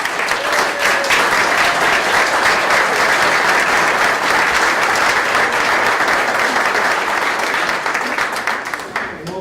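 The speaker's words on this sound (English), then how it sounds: "just give them a round of applause" Sustained applause from the audience at a town board meeting in Glenville, New York, a steady wash of many hands clapping for the full stretch, loud and even before tapering slightly at the end.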